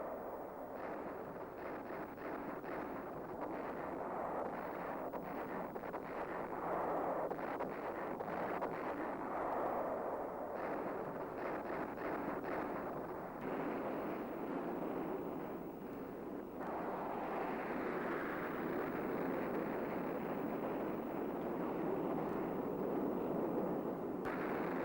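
Vietnam War B-52 bombers in a saturation raid, dropping 108 bombs at a time on camps and troop concentrations: a continuous roaring rumble of distant blasts and heavy engine noise, dense and sustained with rolling surges.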